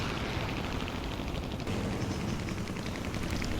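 Rapid gunfire strikes a player's aircraft in the flight combat game War Thunder, a dense, continuous rattle of hits and shots with engine roar underneath, loud and steady throughout.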